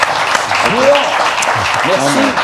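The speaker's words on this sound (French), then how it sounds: "Mais on peut les applaudir en tous les cas" An audience applauds presenters at a French-made hi-fi audio showcase, a steady wash of clapping throughout with someone talking over it.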